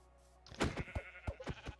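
Several blocky, synthetic sheep bleats from Minecraft follow one another in quick succession, loud and close, with no talking.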